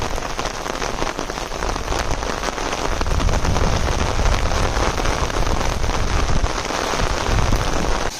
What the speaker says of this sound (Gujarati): 6 વાગ્યા તો વરસાદ બંધ નથી થતો.